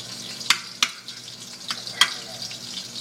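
Garlic stir-fried with chillies in a pan, a soft continuous sizzle broken by a few sharp spatula scrapes and clicks, close by and with no speech.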